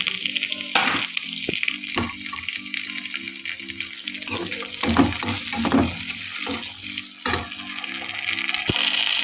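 Tomatoes frying and sizzling in a pan with salt and turmeric, a steady close hiss broken by scraping stirs and light clinks, with no one speaking.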